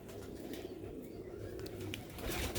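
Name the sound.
Sialkoti pigeons cooing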